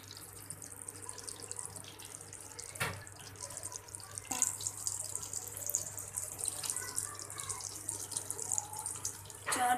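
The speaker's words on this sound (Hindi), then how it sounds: "घी आप देख रहे हैं थोड़ा गर्म हो गया। अब इसमें टिक्कियाँ डालती जाऊँगी।" Methi tikkis shallow frying in hot ghee in a pan, a steady close sizzling hiss broken by a few sharp pops and crackles, with no voices.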